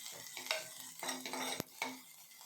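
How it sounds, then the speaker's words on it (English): Sliced onion, garlic and whole cloves sauté in a pan with a soft sizzle, broken by several sharp scraping stirs of a utensil against the metal. The sounds are close and fairly quiet. "I am adding 1 large onion thinly sliced. Saute this well together."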